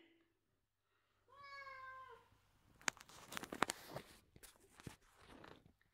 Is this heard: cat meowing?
yes